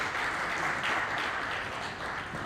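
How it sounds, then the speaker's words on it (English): A conference audience applauds with even, sustained clapping from many hands, moderately loud and continuous, with no voices over it. "Can you give him a round of applause, please?"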